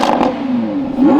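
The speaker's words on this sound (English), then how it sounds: "I want you guys to hear this exhaust from the outside because it just sounds incredible." A sports car's deep exhaust note revs and rises briefly outside the car, loud and close, with a rough rumbling tone.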